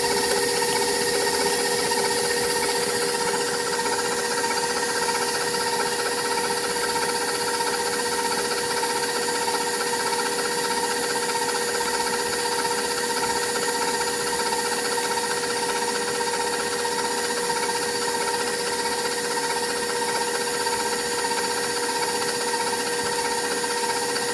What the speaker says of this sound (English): Okay, so we're going to mix it up again. The eggs. Mix it on medium.